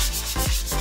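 Rhythmic scraping of sandpaper rubbing back and forth across a metal pipe canister before repainting, close up, in several strokes with brief pauses between them.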